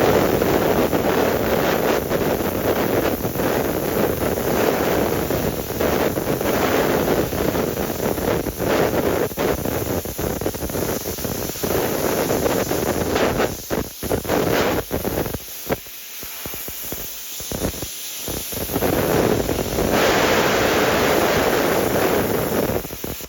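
A YESWELDER CUT 65DS plasma cutter works through 1.25-inch-thick steel, a loud, steady broadband hiss and roar that falters and drops out briefly near the end before surging back, with no talking.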